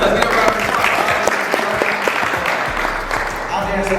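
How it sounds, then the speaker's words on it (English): An audience at a motivational talk breaks into steady, dense applause that fills the space, with a voice speaking over the clapping. "Let's get a round of applause for that."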